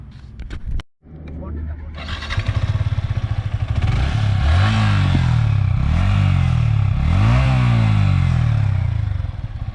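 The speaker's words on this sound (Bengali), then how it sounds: "এখন বাইকটার ইঞ্জিন সাউন্ড আপনাদেরকে শোনাই" A Yamaha R15 V3 motorcycle engine starts after a sharp click and settles into a steady, loud idle close by, with several quick throttle blips rising and falling in pitch.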